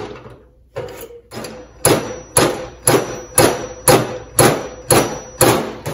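A slide hammer stud puller works dents out of a hot rod body, its weight slamming back in a steady series of about nine heavy metallic thumps, close and loud, after a few softer knocks at the start.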